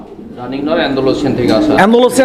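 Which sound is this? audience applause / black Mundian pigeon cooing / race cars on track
black Mundian pigeon cooing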